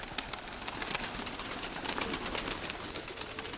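Pigeons coo softly in a small flock of about thirteen birds being fed outdoors, their murmuring calls continuous under broad, hissy background noise.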